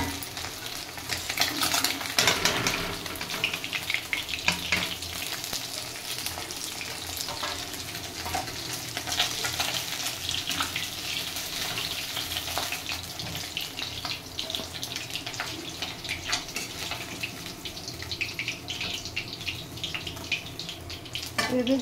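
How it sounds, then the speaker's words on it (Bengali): Bhola fish frying in hot oil with a dense, continuous sizzle and crackle, with occasional stirring and scraping in the pan throughout. "মাছ ভাজা হয়ে গেছে"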